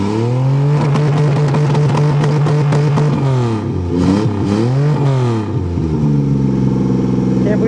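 An old van engine runs loud and close, revving up and holding a strained drone, dropping and rising again through several throttle blips before settling toward a lower idle.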